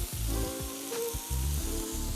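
Shrimp sizzle loudly in a hot pan as lemon juice goes in to deglaze, a steady close frying hiss broken by a few bursts of spattering.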